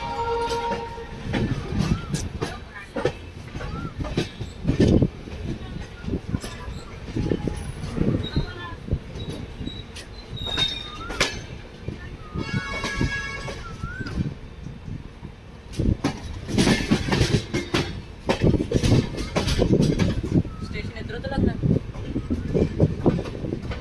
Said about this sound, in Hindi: जालंधर सिटी स्टेशन पर प्रवेश करती हुई हमारी ट्रेन